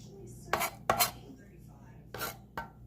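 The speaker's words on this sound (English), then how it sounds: "I'll probably cut the other side of this and chop it up as well" A knife chops vegetables for pico de gallo on a cutting board: four sharp, separate chops spaced unevenly over a quiet kitchen background, with no talking.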